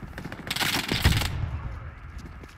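Machine gun fire in a commander-style war video game, a short rapid crackling burst mixed with commentary speech, fading out into quieter background.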